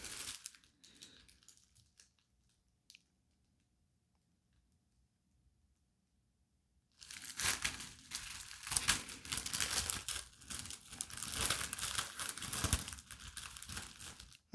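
Plastic bag packaging around a Dolce & Gabbana cotton t-shirt crinkles loudly and close after a quiet stretch, with continuous rustling and crackling in irregular bursts.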